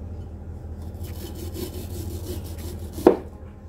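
A knife scrapes and saws through mango flesh close to the seed in a soft, rhythmic rasping, ending in one sharper click of the blade.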